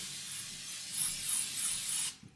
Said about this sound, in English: you're gonna spray the ever-living daylights out of your cooking tray